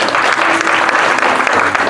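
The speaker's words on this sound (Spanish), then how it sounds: "Que le hace un aplauso fuerte al Señor." Dense, loud clapping from a large church congregation fills the entire moment, continuous and even with no pauses.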